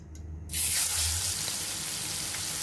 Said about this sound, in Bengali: এখন আমরা লইট্টা মাছগুলো এর মাঝে দিয়ে দিব।